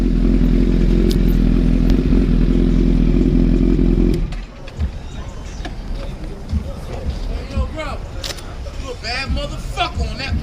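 A custom motorcycle's engine rumbles loud and low at close range for about four seconds before cutting off, leaving quieter clatter and people talking.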